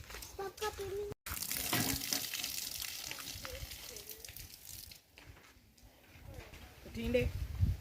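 Running water from a tap splashes into a sink as rice is washed by hand, steady and close, with people talking over it.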